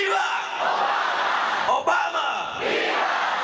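A crowd of about 3,000 students cheers and yells at an outdoor Barack Obama campaign rally, a dense, continuous roar of shouts and whoops with a brief dip near the middle before surging back.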